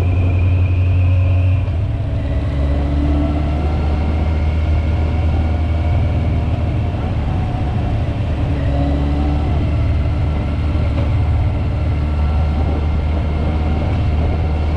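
A car engine with an ignition misfire rumbles steadily and loudly from inside the vehicle, pitch shifting gently as it runs, with uneven undertones and no speech.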